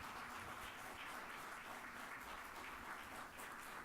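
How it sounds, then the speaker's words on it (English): Steady applause from an audience at a 2015 mayoral candidate forum, a continuous wash of clapping heard at a distance with no voices. "Let's give Michael a big round of applause for volunteering."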